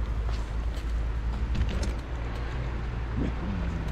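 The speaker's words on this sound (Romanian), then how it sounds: "Mașina e cu motorul pornit." A parked car sits idling with its engine running on a cold day, around eight degrees, in Bolintin Vale, Giurgiu county; a steady low rumble continues throughout, with faint background activity and no clear talk.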